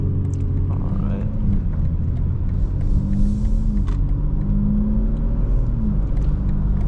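A 2025 BMW M4 Competition xDrive tuned to about 900 horsepower drives along, its engine giving a steady, subdued low rumble that sounds close to stock, with no sharp revving and only faint road noise.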